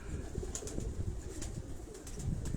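Pigeons coo in a rooftop loft in Karachi Defence, soft throaty calls repeating close by over a steady murmur of other birds and faint rustling.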